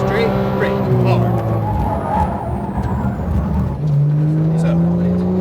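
Race car engine in a GT3 racing video game at a Las Vegas circuit, droning steadily with pitch sweeps as it upshifts, then braking, running continuously under a man's coaching speech.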